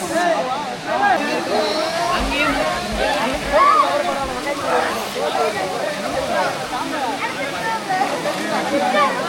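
Aare waterfall in Andhra Pradesh roars as a loud, steady rush of falling water close by, a continuous broadband wash with no gaps.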